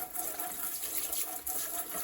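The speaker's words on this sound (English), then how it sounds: "I'm just going to hit it with some warm water." Warm water sprays and rinses over an RV air conditioner filter, a brief continuous hiss of running water, close and steady with no talk.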